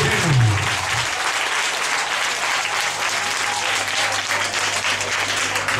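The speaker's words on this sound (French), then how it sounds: "Acclame pour Jésus." An evangelical congregation claps and cheers in praise of Jesus, a thick, sustained roar of applause filling the space at a steady level from start to finish.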